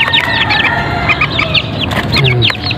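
Chicken-like clucking and chirping from a bird locally called krukok kept among young chicks, several close, busy calls repeating over a steady farmyard background with no talking.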